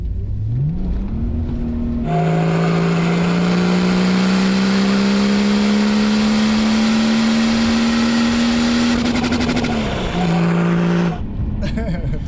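A BMW E34 525 TDS diesel car accelerates through the gears at close range, its steady engine drone climbing in pitch, dipping briefly at a shift and then rising again, with the engine running for most of the stretch.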